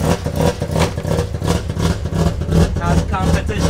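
Race car engine running on a heat cycle, a steady loud rumbling idle close by, with the engine note continuous throughout the short stretch.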